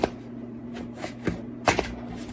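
Tarot cards being shuffled, a few soft riffling bursts and taps scattered over quiet room tone with a steady low hum, close and faint.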